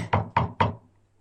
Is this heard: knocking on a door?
yes